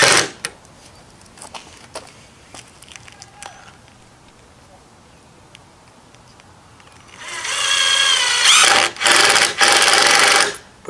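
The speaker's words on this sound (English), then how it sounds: "Pretty much countersinking all my bolts, all my screws or whatever" A power drill runs in loud sustained bursts near the end, countersinking screws into the wooden slats of a garden arbor, with brief pauses between runs after a quieter stretch of light handling noise.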